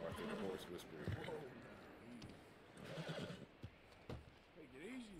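A horse whinnies and snorts in the video game Red Dead Redemption 2, giving several wavering neighs over hoofbeats and background game noise, with someone speaking at the same time.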